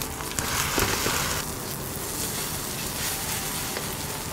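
Egg sizzling in a hot frying pan just after being flipped, for Chinese sausage and egg fried rice; a dense, close, steady hiss with faint crackles and no talking.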